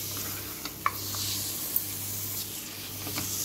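Mutton sautés in oil in a pan, a steady soft hiss of frying with a few faint clicks from stirring, close and without speech.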